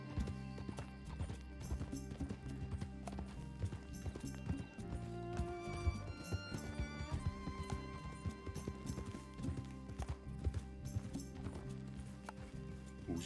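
Hooves of a galloping horse in Red Dead Redemption 2 pound in a fast, continuous clip-clop rhythm, close and steady under layered game music, with an occasional snort.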